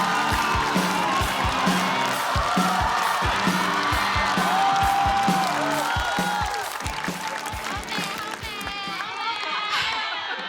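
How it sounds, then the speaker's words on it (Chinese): A stand-up comedy show audience breaking into loud, sustained applause with cheers and whoops, a dense crowd sound filling the room before easing slightly near the end. "我们掌声有请"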